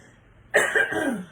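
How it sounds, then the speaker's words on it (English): A short burst of coughing, a couple of harsh hacks close to the mic after a moment of quiet. "And then I go to come on here and I have a coughing spell."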